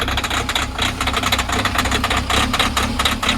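A Mahindra Scorpio N diesel engine runs just after starting in freezing cold, with a loud, close, steady rattling clatter and rapid rhythmic pulsing throughout.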